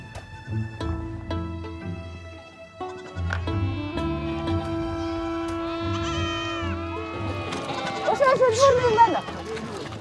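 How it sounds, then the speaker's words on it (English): Goats and sheep bleat repeatedly in the Mongolian mountains, overlapping wavering cries from several animals, some close and loud, building toward a louder chorus at the end. "The adult goats and sheep are separated from their young so they can graze on the surrounding mountains."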